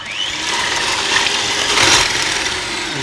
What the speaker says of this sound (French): On va prendre le batteur et on va monter cette crème en crème fouettée.